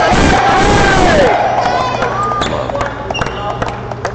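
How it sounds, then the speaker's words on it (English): A crowd at a sub-junior ranking badminton finals in Kerala bursts into loud cheering and applause, which fades to a murmur of scattered voices and sharp shuttle and court sounds. "Crowd appreciates."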